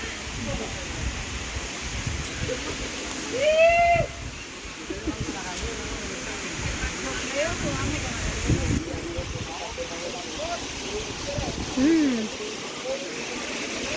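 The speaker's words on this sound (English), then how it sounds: "so we have made it to the falls." El Limon waterfall in the Dominican Republic, crowded with visitors: a steady, broad rushing roar of falling water runs throughout. Nearby people talk and call out over it, with a few louder voices rising above the noise.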